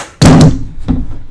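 Recoil spring pulled from an HK21E belt-fed machine gun, giving a sharp metallic clunk followed by a fainter second knock, close and loud with no talking.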